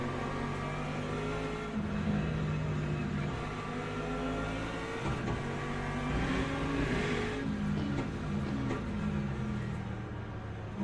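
Hypercars in a video game drive with a steady, moderately quiet engine drone that swells slightly as they rev and pass, without talk.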